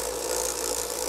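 An electric car motor/generator rig spooling up toward 4,500 RPM, giving a loud, steady, high-pitched whine and hum with a faint rattle, close up and alone for about a second.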